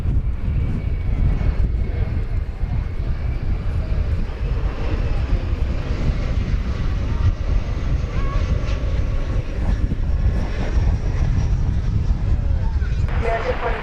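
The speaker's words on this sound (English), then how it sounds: "So here is the E-Jet from Acapulco." An Embraer E-Jet airliner from Acapulco rolls at DFW Airport, a sustained engine drone and low rumble filling the scene, with faint talk mixed in over the noise.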